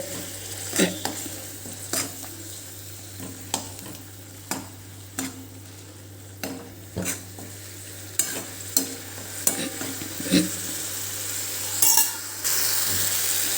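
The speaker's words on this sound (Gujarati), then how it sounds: "હવે એને પણ આપણે પાંચેક મિનિટ સુધી સંતળાવા દઈશું" Ginger, chili and garlic paste sautéing in oil over a medium gas flame for a chola bean gravy, with a steady low sizzle under repeated clinks and scrapes of a stirring spoon against the pan, close and alone.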